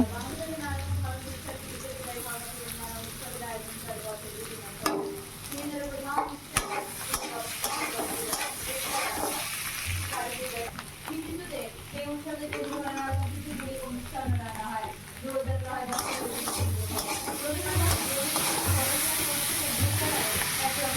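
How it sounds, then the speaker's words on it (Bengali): Pressure-cooked potatoes sizzling in a wok with salt, chilli and turmeric, stirred with a steady run of scraping and clinking, and a constant close frying hiss throughout. "এখন লবণ লঙ্কা হলুদ সব দিয়ে ভালো করে আলু কষিয়ে নেব।"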